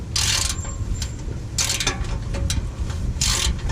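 A hand ratchet cranks on the muffler clamp of a 1990 Honda Accord during exhaust repair, three bursts of fast metallic clicking separated by brief pauses, close and fairly loud.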